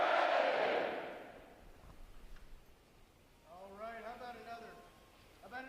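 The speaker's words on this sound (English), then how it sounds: "The adjutant will lead all graduating divisions in 3 cheers for this morning's award recipients" Graduating Navy recruits at a boot camp ceremony roar a massed cheer, loud and broad at first, then a single voice leads with a call before the crowd shouts back again.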